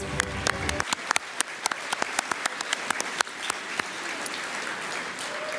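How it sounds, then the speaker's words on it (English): Scattered hand claps from an audience at an awards dinner follow a brief tonal sound that cuts off; the claps stay sparse and uneven, a handful of people clapping at irregular intervals. "Let's give them another round of applause."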